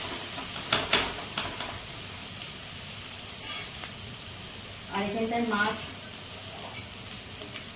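Spice masala fries in a kadai for fish curry with a steady, soft hiss and sizzle, a few utensil clinks early on, and someone speaking briefly partway through.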